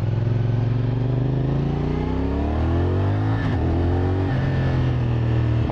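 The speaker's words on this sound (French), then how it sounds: "le son de la moto, les frères, il est exceptionnel. J'adore. Ce bicylindre, il claque fort" A CFMOTO SR450 twin-cylinder motorcycle engine revs loud and close, its pitch climbing steadily, dipping briefly, then settling into a strong, even drone.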